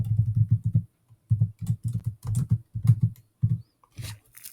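Someone types on a computer keyboard in short bursts of rapid clicks separated by brief pauses, close and clear, with no talking.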